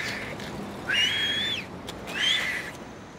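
Two short whistled phrases, clear and fairly close, each a rising then falling tune separated by a brief pause.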